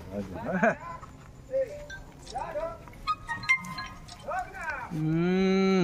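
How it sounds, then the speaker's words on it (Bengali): A cow moos several times beside a fish pond, the calls rising and falling in short bursts before one long sustained low moo at the end; people talk faintly in the background. "গরু"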